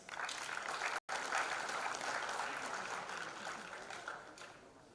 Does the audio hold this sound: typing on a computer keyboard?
no